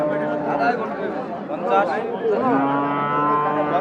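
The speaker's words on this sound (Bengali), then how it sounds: "চমৎকার একটি বকনি গরু" A heifer moos close by in drawn-out, tonal calls, with people chattering in the background of a busy village cattle market in Kurigram, Bangladesh.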